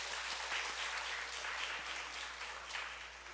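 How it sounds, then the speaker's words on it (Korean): A church congregation gives a welcoming round of applause, steady and fairly faint throughout, with no talking over it. "우리 환영의 박수 하겠습니다."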